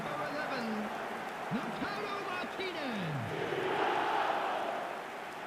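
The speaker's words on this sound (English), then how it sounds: "the crowd level has gone up a notch or 10" Stadium crowd at a Portugal vs Argentina football match roaring after a goal: a steady, distant wall of cheering and whistles, with commentary voices over it.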